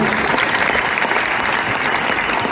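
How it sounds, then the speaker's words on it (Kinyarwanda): A crowd applauding loudly and steadily, dense clapping filling the whole moment without pause. "Twongere dukomere Imana amashyi cyane"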